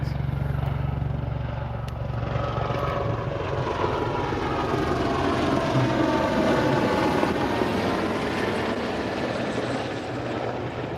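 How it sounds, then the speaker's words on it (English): Helicopter passing overhead outdoors, a loud steady rotor thrum and engine roar that stays dense and continuous throughout, with no speech over it. "There's a helicopter flying over us."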